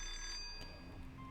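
A telephone ringing in a video game, a faint, steady electronic ring under background game sound for just over a second.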